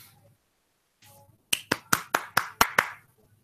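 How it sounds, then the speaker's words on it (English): Seven sharp, evenly spaced hand claps ring out one after another in a quiet room, crisp and close. "Not a golf clap, a real clap."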